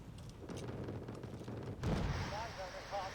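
Wargame Red Dragon air strikes by ATGM and cluster bomber aircraft on a group of tanks: a rumbling barrage of distant explosions, then a heavier blast with crackling debris and faint whistling tones.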